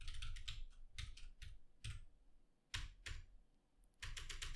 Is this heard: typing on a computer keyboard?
yes